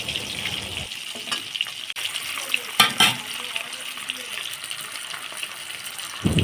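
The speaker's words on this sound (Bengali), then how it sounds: "তেলটা গরম করে নিয়ে মাছগুলো হালকা হালকা করে ভেজে নেব" Hilsa fish pieces fry lightly in hot oil, giving a steady, close sizzling hiss with small crackles that continues evenly throughout.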